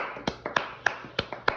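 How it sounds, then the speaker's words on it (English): Sparse claps ring out for a climate change expert on a podcast recording, about half a dozen sharp, separate hand claps in a loose, uneven rhythm, close and fairly quiet. "Let's give a round of applause to our climate change expert"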